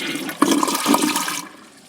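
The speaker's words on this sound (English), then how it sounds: "Now let's give it a flush." A toilet in a new tank setup flushes with a loud rushing gush of water, a couple of sharper surges in the first second, then a steady swirl that cuts off abruptly near the end, with no talk.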